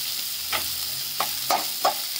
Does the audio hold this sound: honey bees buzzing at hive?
no